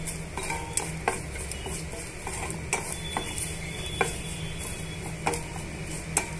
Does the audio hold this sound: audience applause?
no